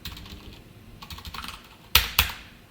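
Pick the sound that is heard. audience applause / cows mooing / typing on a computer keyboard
typing on a computer keyboard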